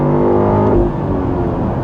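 BMW X6 M60i mild hybrid SUV accelerating on the road, a steady loud engine drone with layered harmonic whine that eases slightly after a shift, heard from inside the cabin.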